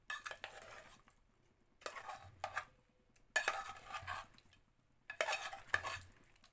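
Paneer chunks are mixed with masala in a bowl or pan in four short, quiet bursts of scraping and clinking utensil strokes, with near-silent gaps between them.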